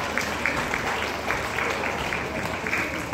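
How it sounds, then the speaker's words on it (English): An audience applauding, a steady wash of clapping held at an even level throughout, moderately loud. "Yes, please put your hands together."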